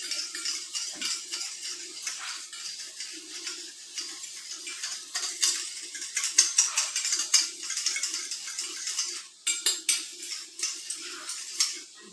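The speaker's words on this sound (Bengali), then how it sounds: "আমার দইটা ফেটানো হয়ে গেছে" Homemade sour curd is whisked in a bowl with quick, repeated scraping and clinking strokes of a utensil against the bowl, close and fairly soft, with a faint hum underneath and no talking.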